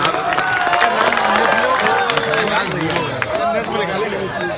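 Applause and crowd noise welcome a poet at a mushaira, with many hands clapping amid murmuring voices and a speaker talking over the din.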